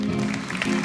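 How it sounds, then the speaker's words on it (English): A brief burst of audience applause for winners coming on stage at a conference event, dense clapping heard under a presenter's voice. "Big applause."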